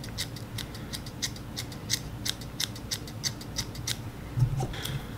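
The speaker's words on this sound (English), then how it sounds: "I'll like lift up that strung fuzz," Small scissors trim the fuzz collar on a fly-tying jig streamer, giving a run of crisp, quick snips at close range over a faint steady hum, with no talking.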